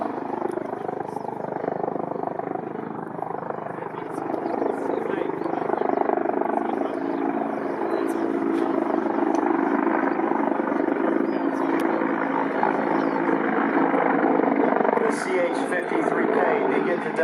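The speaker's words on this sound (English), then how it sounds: "CH-53K begins a demonstration with an impressive display in the main rotor" A Sikorsky CH-53K King Stallion heavy helicopter flies a demonstration at the ILA 2018 airshow, its rotor and turbines making a continuous, broad roar that stays loud and steady throughout.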